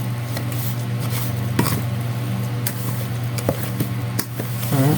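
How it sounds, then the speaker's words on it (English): Macaroon ingredients being mixed in a bowl, a spoon or spatula scraping and knocking against the sides in irregular close strokes with occasional louder clinks, no speech. "Mix the ingredients again."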